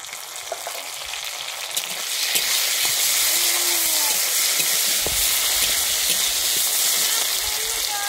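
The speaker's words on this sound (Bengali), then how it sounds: "আমি এর মধ্যে দিয়ে দিচ্ছি একটা টমেটো।" Tomato dropped into a pan of fried chopped onions and black cumin sizzles steadily. The frying grows louder after a couple of seconds, with scraping stirs over the hiss and no voice.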